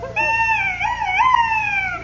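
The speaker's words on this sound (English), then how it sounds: "That noise was a duck call" A blown duck call gives a sustained, wavering, nasal honk-like wail that bends up and down in pitch, loud and close, heard alone for about two seconds.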